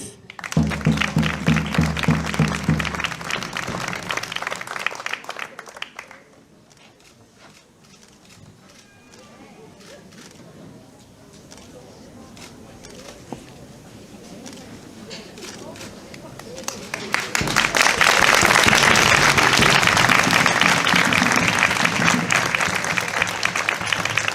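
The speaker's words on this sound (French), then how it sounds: "Je pense qu'on peut les applaudir bien fort." Audience applause at a town coronation ceremony in Vence, with bursts of clapping at the start and a louder sustained round at the end, separated by a quieter stretch with some talk.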